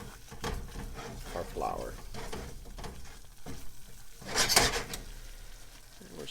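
Flour cooking in a butter mixture in a pan for homemade creamed corn, a soft continuous sizzle with spoon stirring and scraping, and a louder clatter near the end, under a person talking.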